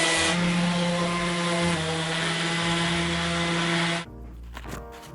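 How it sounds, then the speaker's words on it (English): Power sander working over pallet wood, a steady close buzzing whine held for about four seconds before cutting off into quieter handling sounds. "we're gonna sand it so we don't get slivers in our bums."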